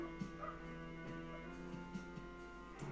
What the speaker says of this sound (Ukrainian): Собаки гавкають, замахали.